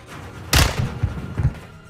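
A grenade lands with a heavy thud in Call of Duty Modern Warfare 2, followed by a few softer bumping knocks as it settles, loud and close.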